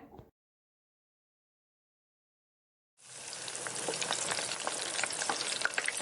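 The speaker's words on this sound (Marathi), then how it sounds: "आता हे वडे गरम तेलात एक एक करून सोडूया." Crispy vadas made from leftover rice drop into hot oil after a near-silent pause, setting off a loud, dense, crackling sizzle that holds steady and close to the end, with no talking.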